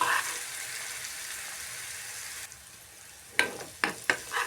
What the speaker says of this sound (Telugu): ముందుగా ప్రిపేర్ చేసుకున్న పేస్ట్ని ఆయిల్లో వేసుకొని ఫ్రై చేసుకోవాలి